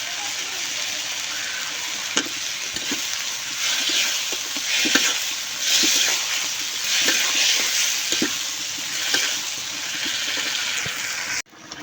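Fish is added to a pan of spiced, sautéed chopped onions and fries with a continuous close sizzle, broken by soft clicks and stirring scrapes. The sizzle cuts off abruptly at the end.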